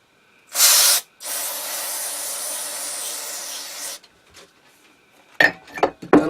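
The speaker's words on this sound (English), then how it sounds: "Let's hit this with a little brake cleaner." Brake cleaner sprays onto an ENCO lathe tailstock. A short sharp blast is followed by a sustained hiss of about three seconds, then faint clinks and rustling of parts being handled.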